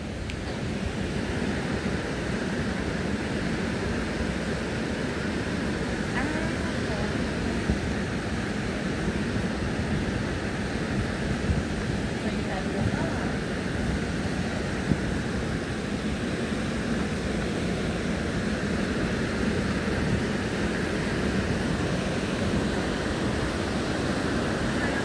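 A steady, broad roar of the Tietê river and its waterfall at the Memorial Tietê runs evenly and unbroken from start to end, with no voices over it.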